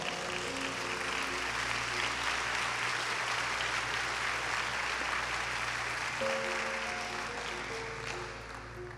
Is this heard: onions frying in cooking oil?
no